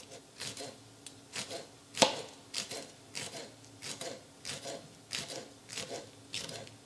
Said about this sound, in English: Now let's just chop them up fine.